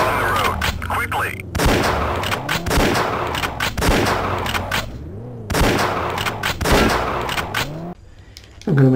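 Rapid bursts of gunfire ring out in World's Scariest Police Chases as roadside targets are shot, with two long stretches of dense, loud shots separated by brief gaps and game sounds running underneath.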